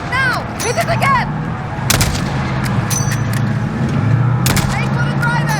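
Call of Duty: Modern Warfare 2019 combat: sharp gunshots crack in bursts at a suicide truck, loud and close, mixed with an engine rumble while a voice shouts commands.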